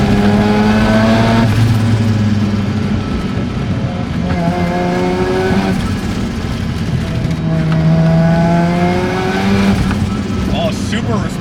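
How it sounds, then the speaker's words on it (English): A rebuilt Mazda RX7 FD rotary sports car accelerates hard up a mountain touge road, its engine note climbing through repeated rising sweeps between gear changes, loud and close throughout, with a driver's voice talking and exclaiming over it. "super responsive, this car"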